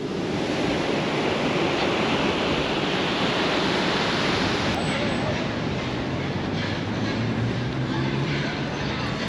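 Sea waves breaking on a Chilean beach, a steady broadband wash of surf that stays loud and close throughout with no pauses.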